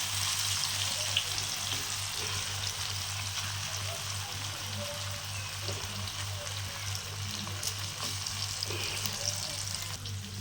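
Pieces of rohu fish fry on a hot tawa in a steady, close crackling sizzle that holds even and dense for the whole stretch, over a low kitchen hum.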